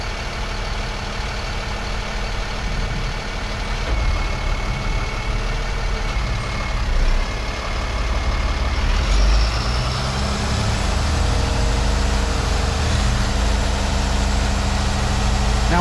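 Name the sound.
vehicle hydraulic system engaging, engine running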